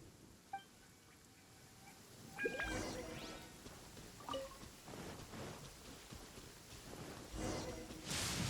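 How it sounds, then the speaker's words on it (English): Thunder rumbles and cracks over steady rain during a lightning storm in the video game Genshin Impact, with several loud booms rolling through a continuous hiss of rainfall. "Lightning storm!"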